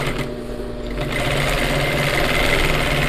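A sewing machine stitches along the lower front of a flared leather skirt, a loud, close, steady mechanical whir that picks up speed after a moment and runs without talk.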